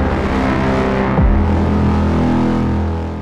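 A 2017 Honda Civic Hatchback Sport engine hums steadily from inside the car, with a single rising pitch sweep partway through as the revs change, then a steady drone that eases slightly at the end.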